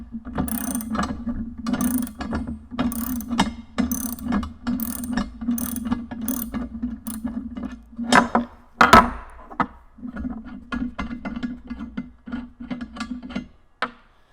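A nut and bolt on a boat anchor roller are loosened with a ratcheting tool, giving a steady run of quick, close clicks over a low hum, with a few louder metallic knocks partway through.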